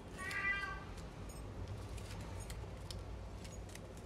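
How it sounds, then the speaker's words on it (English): A house cat meows once in the background early on, a short fairly faint call, and then only quiet indoor room noise follows while someone works on a craft project. "My cat is meowing in the background"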